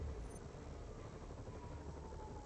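A helicopter in the Marvel's Spider-Man video game, a steady, loud rotor and engine roar with no clear pauses.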